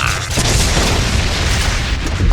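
A loud, sustained cartoon motor bomb explosion, a dense roaring boom that fills the whole two seconds with rumbling low-end energy and no speech over it.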